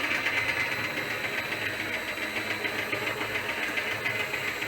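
An Elliott 14S machine's motor runs at 50 hertz with a steady, pulsing mechanical hum and a high whine, close and constant with no talk.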